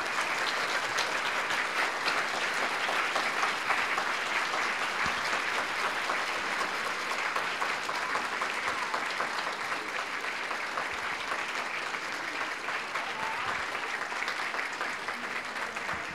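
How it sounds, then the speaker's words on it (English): Long, sustained applause from a conference audience at a myositis association session, steady dense clapping from many hands continuing evenly at moderate loudness without speech. "So please give them a round of applause."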